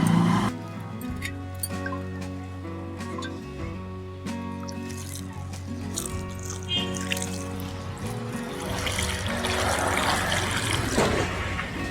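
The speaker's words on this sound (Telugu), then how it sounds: "ఇందులో వాటర్ పోసుకుందాము" Water pours steadily onto a newly planted red rose bush, a continuous splashing and trickling that swells toward the end over a low background tone.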